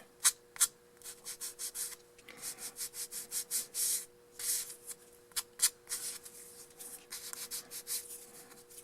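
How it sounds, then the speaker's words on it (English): Sanding stick rubbed over a cardboard model wall from a structure kit, close rhythmic scraping strokes in steady rapid succession with a faint background hum. "I just go over it with my larger sanding stick"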